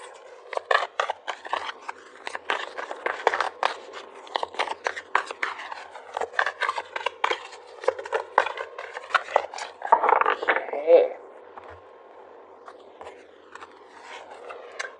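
Tarot cards are handled and shuffled at close range, a rapid run of crisp papery flicks and taps that thins out into a few softer slides and a last brief rustle as cards are pulled.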